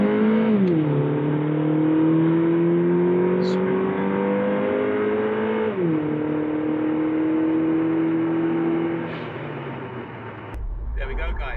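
Toyota Caldina GT4 estate car with a 256 bhp 3SGTE turbo engine accelerating hard from traffic lights, its engine note climbing through two gear changes before easing off, loud and close from inside the cabin.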